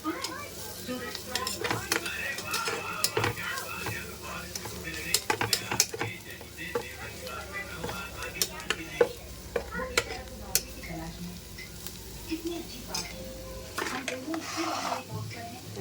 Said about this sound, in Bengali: হলুদ গুঁড়ো, ধনের গুঁড়ো। এবার এটা আমি ভালো করে নাড়িয়ে নেব।